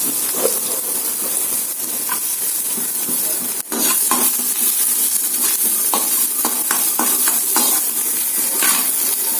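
Onions and curry leaves crackle and sizzle loudly in hot oil, a steady frying hiss broken by the scrape and clatter of stirring.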